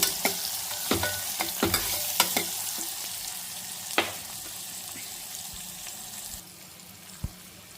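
Onions frying and softening in a pan give a steady, moderate sizzle, broken by repeated scrapes and taps as they are stirred, without any talking.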